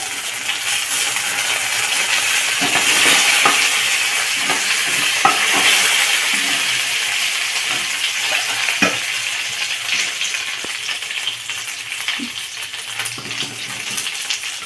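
Dried red chillies and curry leaves frying in hot oil for a masala dosa filling, with a loud continuous sizzle, sharp crackling pops and metallic scraping of a spoon against the pan.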